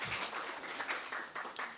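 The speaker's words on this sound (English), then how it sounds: "So please clap" Brief burst of audience applause at a youth political convention, a fairly faint patter of many hands clapping together for a couple of seconds with no speech over it.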